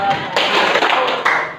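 Students in a classroom clap their hands during a rhythm exercise, with dense tapping and clapping bursts that come and go across the clip and a faint voice underneath.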